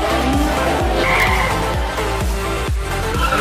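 Modified cars at a drag racing event in the highlands, with engines roaring loudly and tires skidding. Repeated low revving bursts and a steady high squeal run throughout, close and loud, with no talk.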